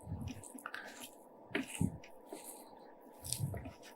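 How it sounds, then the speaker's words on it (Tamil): Bare hands knead and squish raw chicken with spices for chicken pakoda, making wet, sticky squelches in irregular bursts, close and moderately loud. "இந்த சிக்கனை வந்து நல்லா அப்படியே மசாஜ் பண்ணுற மாதிரி என்ன செய்யுங்கன்னா, இதை அப்படியே மிக்ஸ் பண்ணிக்கோங்க"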